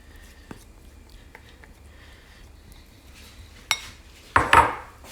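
Eggs are dumped into a heated pan, making a sudden loud sizzle and clatter near the end after quiet kitchen handling with a few light clinks.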